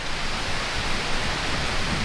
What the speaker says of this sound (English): Storm is in full swing right now.